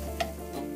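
Ingredients for Uzbek plov fry in a pot, a soft, steady sizzle with a faint stir or clink, brief and quiet.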